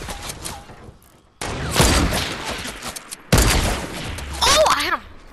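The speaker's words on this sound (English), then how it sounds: "Don't shoot! Shoot at them! Both of them!" Fortnite gunfire, with bursts of shots and impacts arriving in loud chunks, while players shout over the fighting.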